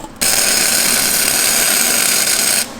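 Welder tack-welding steel in a shop: a loud, harsh continuous buzzing crackle starts abruptly and holds steady for about two and a half seconds, then cuts off.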